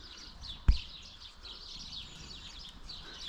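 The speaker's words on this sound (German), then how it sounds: "Die Vöglein hört man schon." Small birds at a busy feeding station chirp in faint, high, scattered calls, with a single sharp knock near the start.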